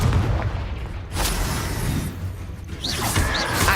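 Confringo fire-blast spell exploding during combat in the game Hogwarts Legacy, a dense roaring boom with crackling and whooshing layered over loud continuous battle noise, a couple of brief high magical chirps near the end.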